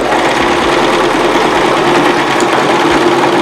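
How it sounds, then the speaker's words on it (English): A sewing machine stitches a wig track for a lace closure wig, running steadily and fairly loud with a continuous mechanical whir and a faint low knocking rhythm throughout. "I'm about to finish the track, finish sewing it"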